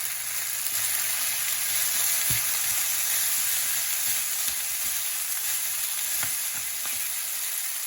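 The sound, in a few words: ham frying in a wok with spaghetti noodles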